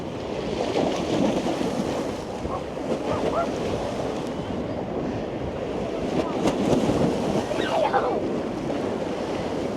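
Rough February sea surges and breaks along Blackpool promenade, a continuous loud wash of surf mixed with gusty wind buffeting the microphone, no voices.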